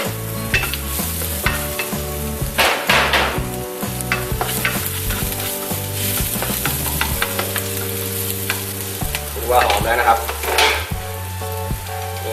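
Chili and garlic hit hot oil in a pan for a Thai holy basil stir-fry with minced pork, giving a loud, steady sizzle broken by stirring scrapes, with music playing underneath.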